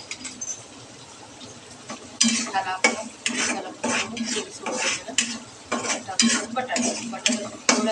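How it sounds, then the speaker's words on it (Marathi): Potatoes for spicy pav bhaji frying in a pan and stirred with a metal spatula, giving repeated scraping, clinking strokes over a low sizzle, close and fairly loud, with no talk. "बटाटा थोडासा तळून घ्यायचा"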